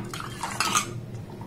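A utensil scrapes and clinks against a pot while a milk mixture for rasmalai is stirred over a low flame, making a brief run of close metallic taps and scrapes.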